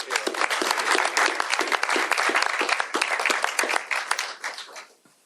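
Lively applause breaks out at a governor's bill signing for a state representative, with a small crowd clapping in sharp, crisp bursts that continue briskly for several seconds before tapering off near the end.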